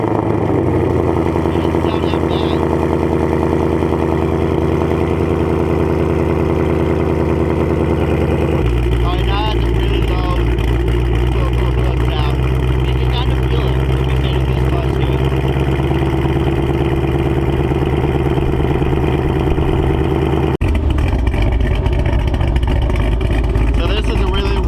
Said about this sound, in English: he does have somewhat of a modified exhaust. So let's see how this sounds.